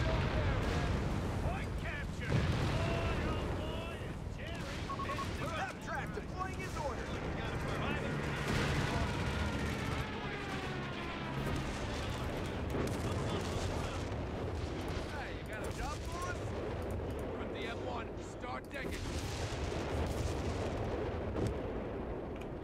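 Heavy artillery fire in a Company of Heroes 3 battle on a 4v4 map: booming blasts and gunfire rumble continuously throughout, mixed with other battle noise while people talk over it.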